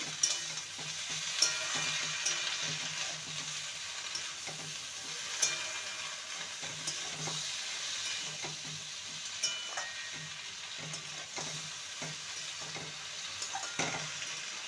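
Malabar spinach chorchori sizzling and frying in a pan while being stirred, with steady broadband sizzle and irregular scraping stir strokes and occasional louder clinks throughout, no talking.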